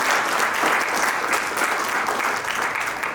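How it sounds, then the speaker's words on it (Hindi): Loud, dense applause fills a community event hall, a crowd clapping steadily and evenly from start to finish with no pause. "ऐसे हमारे राकेश जी के लिए भी मैं चाहूंगा जोरदार तालियां"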